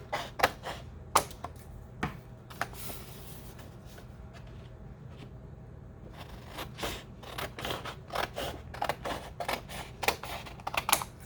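Scissors cutting out paper pictures at a desk: close, quiet, irregular snips and crisp paper rustles in quick clusters, with a short calmer stretch in the middle.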